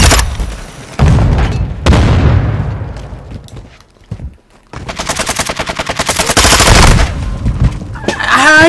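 Rapid bursts of automatic gunfire and heavy booms from the shooter game Modern Warfare 2, loud and close, with sharp volleys, a brief lull, then a sustained string of rattling shots.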